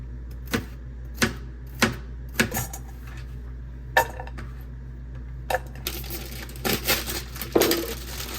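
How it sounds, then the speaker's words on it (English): Sharp knife chops on a cutting board, a few spaced strikes at first, then a faster, busier run of chopping and clatter near the end. "Start off by chopping up our veggies here."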